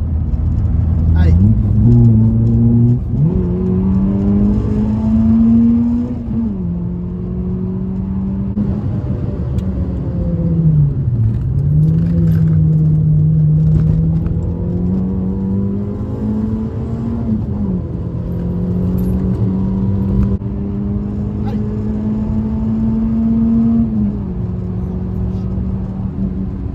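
A 1996 Peugeot 106 Rallye engine revs through the gears on a sporty drive, rising and falling in pitch with a steady rumble inside the cabin.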